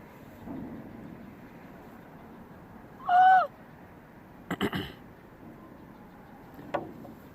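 A voice gives a single short, hoarse call mimicking a raven or crow, followed by a few faint clicks in a quiet room.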